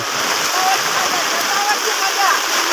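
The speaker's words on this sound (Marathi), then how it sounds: "बघा भरपूर पाऊस पडत आहे" Heavy rain pouring over flooded rice fields during rice transplanting, a loud, dense, unbroken rushing hiss that fills the whole stretch.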